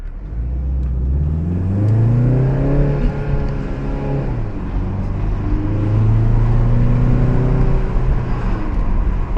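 A BMW 330i G20 sedan accelerates hard on the road, its engine note climbing smoothly through a gear, dropping at the shift, then pulling up again, loud and continuous from inside the car.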